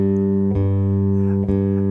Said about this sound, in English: We just want to match the sound of our bass to the reference tone that we're hearing.